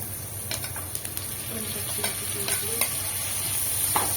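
Crushed garlic dropped into hot oil with curry leaves for a Nellore-style tomato curry, giving a steady close sizzle with scattered crackles and spoon scrapes while it is stirred.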